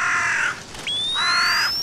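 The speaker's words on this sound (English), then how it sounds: "Where the hell is that crow?" A crow in the horror video game Shutter caws twice in loud, harsh bursts separated by a short pause, with a thin rising electronic tone cutting in partway through.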